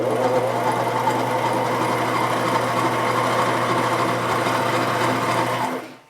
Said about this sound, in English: continue to wind the bobbin until it stops